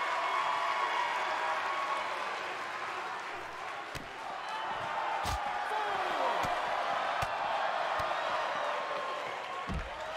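Wrestling crowd in WWE 2K20 applauding and cheering continuously, with sharp thuds and slams of ring action cutting through and someone talking over the noise.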